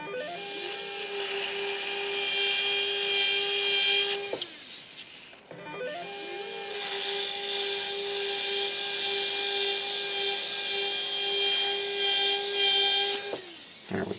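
A high-pitched surgical drill whines steadily while preparing the site for an angled dental implant in the upper jaw, stops briefly, then whirs again for several seconds, close and loud with no speech.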